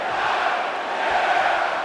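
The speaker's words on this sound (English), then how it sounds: "the crowd's loving it" Arena crowd cheering in the WWE 2K24 wrestling video game during a match, a steady, dense roar of many voices holding level throughout without letting up.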